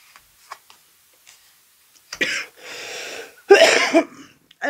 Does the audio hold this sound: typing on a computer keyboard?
no